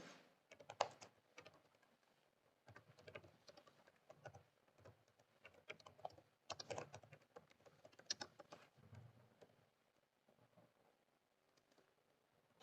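Quiet typing on a computer keyboard while writing C++ code, bursts of rapid key clicks separated by short pauses, close and soft, with no talk.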